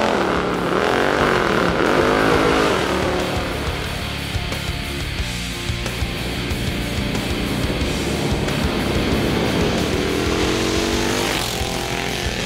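A loud motorcycle with a built 131ci Twin Cam engine revs and pulls away close by, its deep exhaust roar swelling then holding as a steady, powerful rumble throughout.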